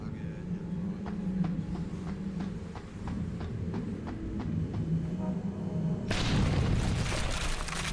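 A gas grenade in the video game Deus Ex: Human Revolution goes off late in the clip with a sudden loud, broad hissing burst. Before it come a low ambient hum and a steady series of soft, regular clicks.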